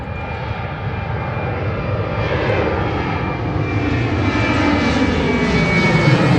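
Four-engine turboprop Antonov An-12 cargo aircraft at Dublin Airport, a loud steady engine roar with a droning whine that swells slightly as it continues, with no talk.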